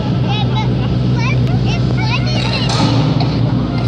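Loud, steady mechanical roar of steelworks machinery running continuously, with a deep low rumble and faint high chirps over it.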